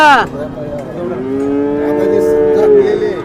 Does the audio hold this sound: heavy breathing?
no